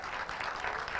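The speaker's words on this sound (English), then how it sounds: "Why don't you clap for yourselves?" A rally audience applauds at a United Opposition political gathering, producing a dense, even wash of clapping that is fairly faint and distant and fills the whole brief stretch.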